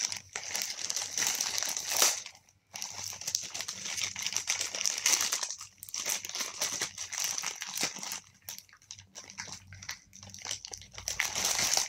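Plastic packaging holding a bank account card and cheque book is torn and crinkled open, a steady crackling rustle with brief pauses, close and fairly loud throughout.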